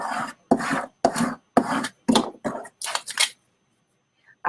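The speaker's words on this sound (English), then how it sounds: "I'm going to give it one more rub." Vinyl transfer tape rubbed onto a cup in seven or eight quick, close scraping strokes with short gaps between them, ending in silence.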